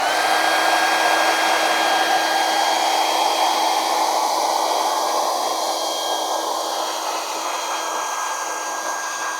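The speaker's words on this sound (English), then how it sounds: "I'm going to hit it with a hairdryer and mute you, and the tape will peel better." A hair dryer blows steadily and loudly throughout, drying watercolor and gouache paint on a taped-down paper sheet, with no talking over the whir.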